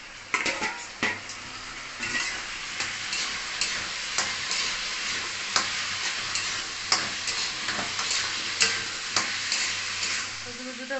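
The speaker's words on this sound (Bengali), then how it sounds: "কচুটা ভেজে নিচ্ছি" Taro pieces fry in an oily pan with a steady sizzle, broken by repeated clacks of a spatula stirring against the metal at an irregular rhythm, close and moderately loud throughout.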